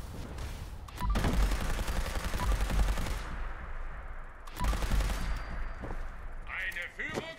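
Loud bursts of rapid gunfire in Fallout 76 come in two long volleys separated by a short lull, with a voice talking under the shots.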